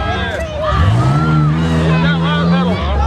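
Modified Jeep running a tuff truck course at a county fair, engine revving and rising in pitch up close, loud, with people talking over it.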